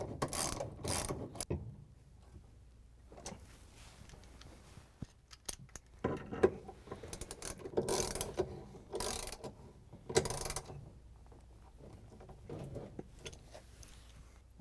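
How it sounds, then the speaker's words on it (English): Ratchet driving a 1/2-inch socket on an extension, tightening a bolt on a GE washing machine transmission: bursts of quick ratcheting clicks come in several separate runs, close and fairly loud, with quiet pauses between. "Then we can use the 1/2" socket with the ratchet and the extension to tighten it down."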